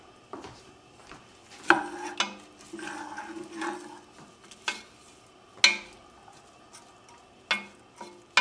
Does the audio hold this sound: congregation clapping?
no